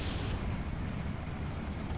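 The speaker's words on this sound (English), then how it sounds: "So mortar fire comes in." Mortar barrage in the wartime strategy game Steel Division 2: a continuous low rumble of distant impacts, dense and sustained, with no distinct single blasts standing out.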